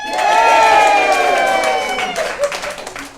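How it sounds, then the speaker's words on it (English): A crowd cheers and claps at a quilt guild meeting, a loud burst of voices and applause that fades over a few seconds into scattered claps. "and the crowd cheers. Yay!"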